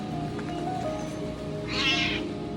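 A cat meows once, clear and close, over low steady background noise in a camper van.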